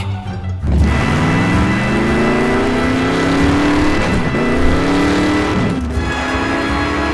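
A Honda Jazz car engine revs steadily at close range, its pitch climbing and dipping in repeated sweeps with no voices over it.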